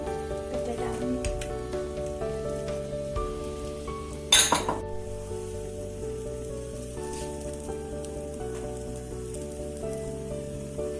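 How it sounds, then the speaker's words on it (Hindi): Butter melting on a hot tawa griddle before cooking besan chilla, giving a steady fine hiss with one brief metallic clink partway through. "तेल गरम, तवा गरम हो गया है, इस पे ये हम बटर डालेंगे।"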